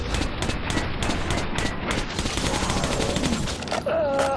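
Rapid automatic gunfire in Metro 2033 Redux, a steady rattling stream of shots close and loud throughout, with a faint whistling tone near the end.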